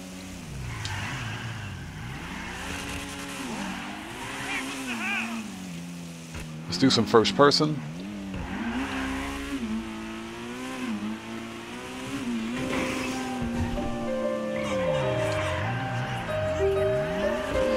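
A Vapid Flash GT, a hatchback modeled on the Ford Fiesta RS / Focus RS, drives in GTA 5 Online, its engine rising and falling as it accelerates and shifts, with a brief burst of impact noise midway and someone talking over it throughout.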